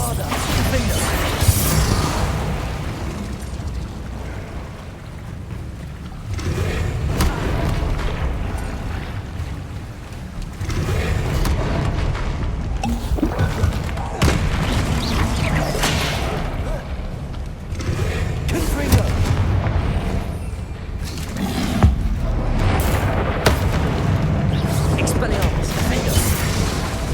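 Spell blasts and explosions from Hogwarts Legacy combat, including Confringo and Bombarda, boom and crackle continuously and loudly throughout, mixed with voices.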